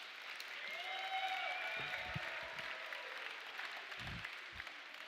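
Applause from the audience at a Juneteenth jazz event, a broad wash of clapping and crowd noise that holds steady, with a few thumps and brief tones rising over it.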